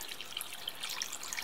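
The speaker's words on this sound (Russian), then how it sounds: "Наливаем водички." Water poured into a frying pan of meat being cooked over high heat on a stove, a steady, fairly quiet trickle and splash with faint dripping, heard alone and close.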